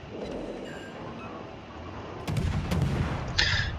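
Gun salvos from the Atlanta cruiser in World of Warships, a muffled, steady rumble of distant firing with a sharper volley bursting in near the end, heard alone.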